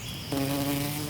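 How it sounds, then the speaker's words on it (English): Honeybees at a bee rescue produce a steady, close droning buzz that swells abruptly partway through and then holds loud and even, with no voices. "bees are amazing"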